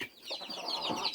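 Chickens on a rural farm cluck softly in a short, close burst of quick overlapping calls.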